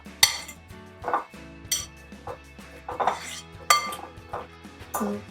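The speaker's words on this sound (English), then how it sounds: "I like to poke them a little bit once they're in the bowl" Pineapple pieces being poked in a bowl for a frozen pina colada: repeated close clinks and taps of a utensil against the bowl, roughly every half second, with a steady hum underneath and no talking.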